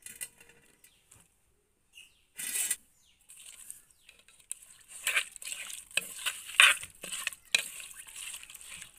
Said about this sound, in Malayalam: ഇത് നന്നായി ഇളക്കി കൊടുത്ത്